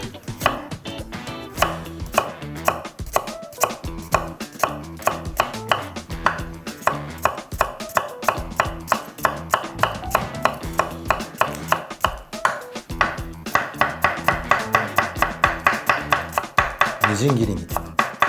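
Kitchen knife rapidly mincing ginger on a cutting board for a clam and fava bean stir-fry, a dense, steady run of sharp close taps that quickens and grows louder toward the end, with no talking.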